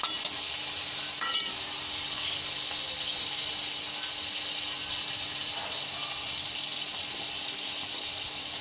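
Red chili paste frying for a jackfruit curry, a steady, even sizzle of hot oil that holds at one level, with a faint scrape or two near the start.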